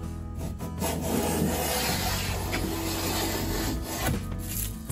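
A hand plane cuts a rabbet along the edge of a wooden board for a china hutch cabinet top, making close, loud rasping strokes with scraping bursts and short pauses between passes, with no talking.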